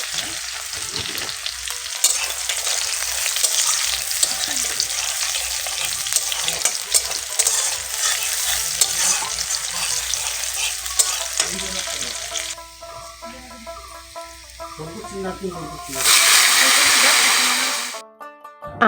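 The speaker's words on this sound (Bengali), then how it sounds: "কড়াইয়ের মধ্যে দিয়ে দিলাম পেঁয়াজ" Onions fry in hot oil in a kadai and get stirred, a loud continuous sizzle broken by scraping spatula strokes. A voice speaks briefly partway through, and the sizzle surges louder near the end before cutting off.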